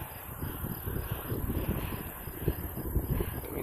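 Strong wind buffets the microphone in open country near train tracks and turning windmills at Pincher Creek, Alberta, a steady low roar with gusting swells throughout and no voices.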